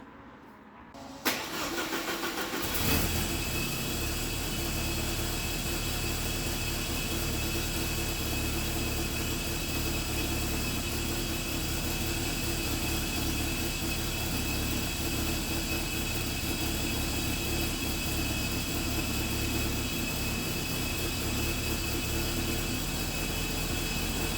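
A Porsche 944 engine on a Speeduino ECU starts and then runs steadily, loud and close, with a strong whooshing intake roar layered over the constant engine drone, no belt squeal.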